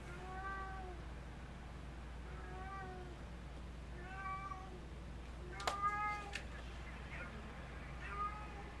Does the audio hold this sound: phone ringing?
no